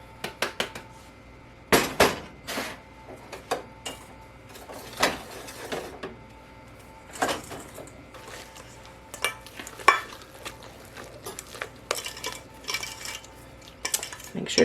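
Zucchini bread batter with flour is stirred in a bowl, irregular clinks and scrapes of a utensil against the sides repeating over a quiet background.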